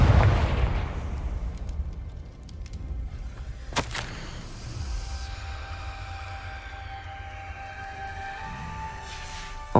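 Fire-blast spell explosion in a Harry Potter video game: a loud booming burst at the start that rumbles and decays, then a sharp crack a few seconds later over a lingering low roar.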